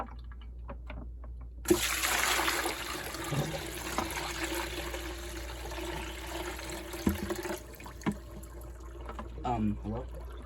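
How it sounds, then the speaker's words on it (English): Periwinkle snails are dumped into water at Newport: a sudden splashing pour, then several seconds of sloshing and trickling, followed by scattered clinks and softer water noise, close by. "we're gonna just dump the snails in."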